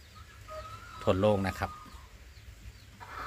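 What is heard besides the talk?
Light Sussex chickens clucking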